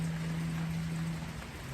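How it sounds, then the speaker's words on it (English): Light rain shower falling steadily, heard from a porch, a soft continuous patter with a low steady hum underneath and no talk. "Listen to that rain."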